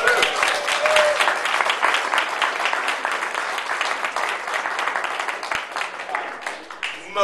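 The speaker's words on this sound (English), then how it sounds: "which is round of applause." Applause from a theater audience during a Winter's Tale event, dense and steady clapping for about seven seconds with faint voices mixed in, tapering slightly toward the end.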